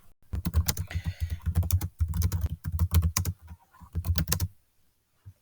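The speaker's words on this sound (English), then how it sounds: "Now, I can type it in here so you guys can read." Rapid typing on a computer keyboard, loud and close, in steady bursts of clicking keystrokes with short pauses between runs.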